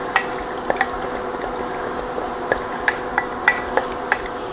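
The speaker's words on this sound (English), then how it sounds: "We're going to give this a stir" Sausage and pasta soup with broth being stirred in a pot, giving soft, steady liquid sloshing with several sharp utensil clinks against the pot, close and without talk.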